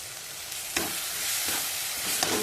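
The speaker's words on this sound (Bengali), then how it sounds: "আর 1 চামচ আদা, টমেটো, কাঁচা লঙ্কা আর রসুন মিলিয়ে বাটাটা দিয়ে দিলাম। আবারও একটু ভালো করে কষিয়ে নেব।" A paste of ginger, tomato, green chili and garlic sautés in a pan with a continuous hiss, broken by a few soft stirring scrapes.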